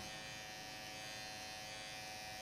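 Electric hair clipper fitted with a medium comb guard, cutting hair during a haircut; a steady, close, continuous buzz that holds evenly throughout with no talking.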